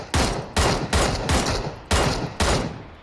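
Five loud video game gunshots ring out at uneven intervals, each a sharp broadband crack with a short decaying tail, close and prominent.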